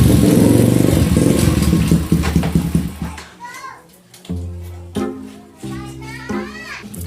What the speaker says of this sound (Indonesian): Kayak suara motor si Jeki.